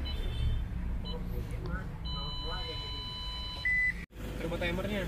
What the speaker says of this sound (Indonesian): ada bunyi tit kayak bunyi safety belt